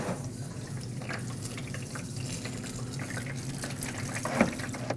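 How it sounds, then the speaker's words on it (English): Coolant from a Nissan Frontier 2.5L four-cylinder radiator drains out of the opened drain plug into a collection receptacle, a steady close trickling and splashing of liquid that holds at even strength throughout. "Let this drain into your collection receptacle."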